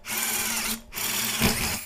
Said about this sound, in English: Now I will drill a bigger hole.